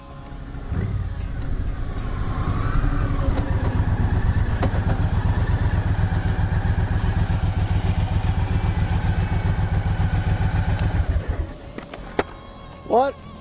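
A 2011 Triumph Thunderbird cruiser motorcycle engine runs close by with a loud, steady throbbing idle and a brief rev, then cuts off, with someone talking over it.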